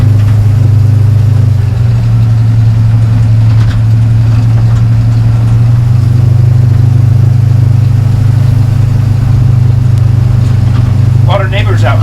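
An LS-swapped 1953 Chevy 3100 patina farm truck being driven, its engine a loud, steady low drone that runs unbroken throughout, with a brief higher sound near the end.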